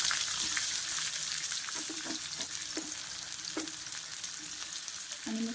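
Chopped onion sizzles steadily in hot oil in a wok-like kadhai while a vegetable dish is being prepared, a constant close frying hiss with a few soft pops and light stirring knocks, no voices.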